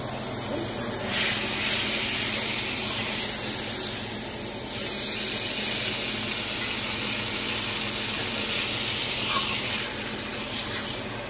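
Cooking spray is squirted onto a pot roast in a home kitchen, a close, airy hiss that rises in short bursts and fades between them, with brief voices nearby.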